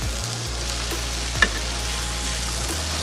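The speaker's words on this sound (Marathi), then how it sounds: "साधारण 1 चमचा अद्रक लसूणची पेस्ट टाकणार आहोत आणि ते थोडंसं परतून घेऊन त्यात आपण टोमॅटो टाकून देणार आहोत" Ginger-garlic paste sautéing with onion and tomato in a pan for an egg masala, a steady loud sizzle filling the clip with a single sharp clink near the middle.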